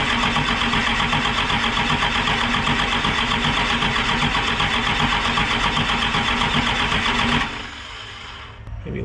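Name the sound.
12 valve Cummins diesel engine cranking in Ford OBS truck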